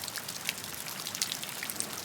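Light rain falling, scattered drops ticking and pattering irregularly over a soft continuous hiss, quiet and close with no voices.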